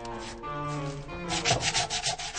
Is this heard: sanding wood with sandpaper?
yes